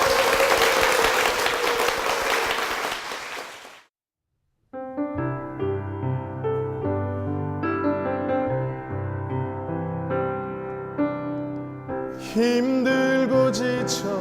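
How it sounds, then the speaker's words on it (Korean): A church audience gives a loud burst of applause that stops abruptly, followed by gentle sustained keyboard tones as a worship song begins. "두 분께 다시 한번 큰 박수 부탁드리겠습니다"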